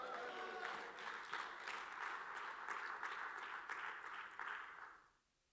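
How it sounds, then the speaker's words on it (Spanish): Church congregation applauds together in a sustained, even wash of clapping that carries on for several seconds before fading quickly to quiet, with no talk over it. "Alguien aplaude al Señor ahora"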